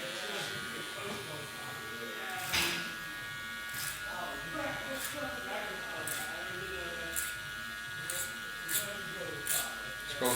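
Electric hair clippers buzzing steadily during a fade haircut, a close constant whine with periodic sharp clicks and scraping bursts as they pass through hair, while someone talks over it.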